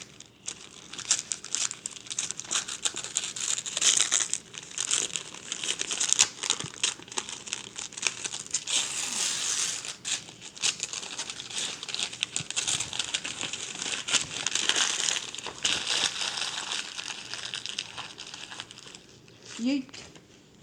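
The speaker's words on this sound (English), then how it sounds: "it's in the snowman wrapping paper. And let's unwrap this." A book wrapped in snowman Christmas paper being unwrapped, with close, continuous crinkling and crumpling broken by sharp bursts of tearing paper.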